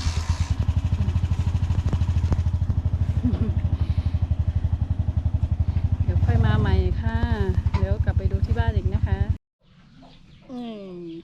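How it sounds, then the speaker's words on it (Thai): A motorized three-wheeler on a rural watermelon farm near Kengtung pulls away with a steady, throbbing small-engine drone that holds loud for most of the stretch, while someone talks over it; the engine then cuts and quieter chatter follows. "พี่เคอจะขับไปนะคะ จะขับไป กลับไปกินข้าวที่บ้านก่อนนะคะ"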